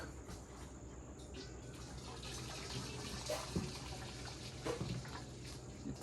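Scalding water pours into a stainless steel bowl, a faint continuous splash and gush with small bursts here and there, heard from a short distance.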